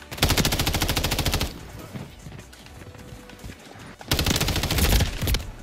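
Rapid automatic gunfire in a first-person shooter game, two loud sustained bursts of fast repeated shots separated by a quieter stretch of game sounds.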